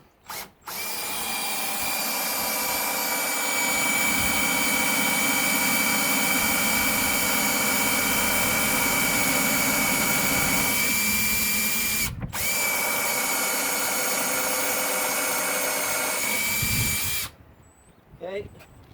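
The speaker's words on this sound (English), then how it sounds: "we're going to countersink our screws" A power drill bores countersinks for screws in a wooden six-panel door being made into a bench, one loud, steady whine running about sixteen seconds with a brief dip midway, then stopping before a short tail of handling noise.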